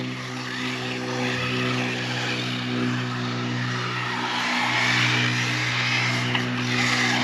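An Arrma Typhon RC car runs on a track, its electric motor giving a steady high whine with buzzy harmonics that swells and eases as the throttle changes, close and continuous with no talking.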